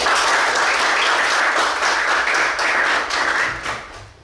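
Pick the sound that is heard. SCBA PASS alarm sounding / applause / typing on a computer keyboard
applause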